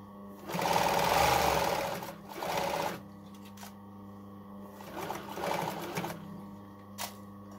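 A sewing machine with a ballpoint knit needle stitches hoodie hood panels together in knit fabric, whirring in two loud close bursts, then two softer runs with quiet gaps and a brief click.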